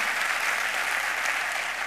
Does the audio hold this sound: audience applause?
yes